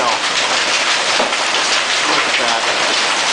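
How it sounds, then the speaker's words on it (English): Hail falls heavily during a storm in Round Rock, a loud, dense, continuous roar of stones pelting surfaces with no break. "You can see all the hail has accumulated in such a short time."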